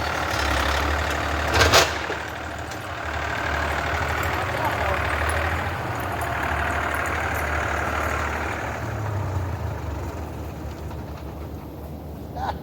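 A tractor engine running during a log pile cleanup, a steady, low, rumbling idle that continues throughout at a close, even level, with a brief knock partway through.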